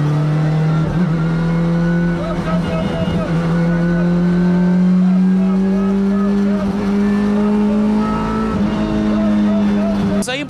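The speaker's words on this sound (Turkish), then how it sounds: "Abitaş Motorsports aracında şu anda Sayın Bakanımız aracı test ediyor." Abitaş Motorsports race car lapping Istanbul Park circuit, its engine a loud steady drone that slowly rises in pitch as it accelerates, close and continuous throughout.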